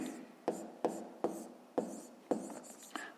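Pen or chalk strokes scratch out a math inequality by hand, a series of short, regular scraping marks about every half second, close and fairly quiet with no talking.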